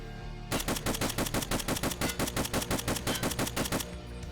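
Rapid, evenly spaced M1A rifle shots in the shooter game Escape From Tarkov, about two dozen loud, punchy reports in a fast steady rhythm lasting roughly three seconds, then stopping abruptly.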